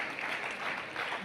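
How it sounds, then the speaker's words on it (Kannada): An audience at a teachers' morning workshop event in Dharwad and Bijapur claps loudly, a dense, even patter of hands that holds steady through the moment without voices over it. "ಜೋರಾದ ಚಪ್ಪಾಳೆ ಮುಖಾಂತರ ಆ ಒಂದು ಶಿಕ್ಷಕ ಬೆಳಗ್ಗೆ ಕಾರ್ಯಕ್ರಮಕ್ಕೆ ಶುಭಾಶಯವನ್ನು ಘೋಷಿಸೋಣ"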